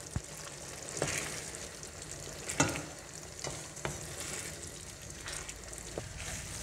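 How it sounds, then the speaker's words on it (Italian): Risotto is stirred gently as it cooks in broth, with a soft continuous bubbling sizzle and a few sharp spoon scrapes against the pan, close and unvoiced. "Mescoliamo con delicatezza, aggiungiamo dell'altro brodo e continuiamo la cottura."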